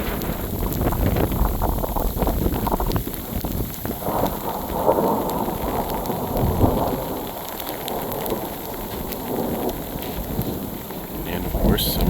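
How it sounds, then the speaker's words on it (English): Sleet thunderstorm pounding down in steady heavy precipitation, with deep rolling thunder rumbling beneath a continuous close-up hiss of ice pellets striking surfaces. "It's like a full-on thunderstorm."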